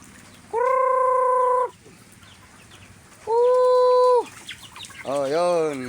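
Several chickens cluck on a farm where ducks are also kept, with two long, loud, drawn-out calls followed by a burst of rapid clucking nearby. There is no talking.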